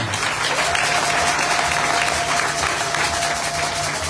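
A church congregation claps steadily and densely through a Sunday worship service, sustained applause filling the space from start to finish with a faint held tone underneath.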